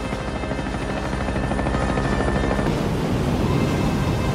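A helicopter in a naval scene from the 1990 film The Hunt for Red October, steady loud rotor chop and engine drone throughout with no talking.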